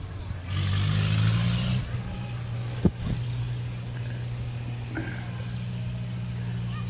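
A Moline Jetstar tractor runs at a Labor Day tractor show in West Liberty, Ohio, its engine giving a steady low rumble that swells louder for about a second near the start, with a sharp knock partway through and a faint voice in the background.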